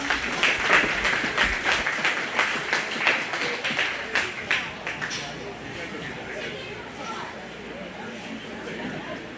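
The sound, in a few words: audience applause at goat show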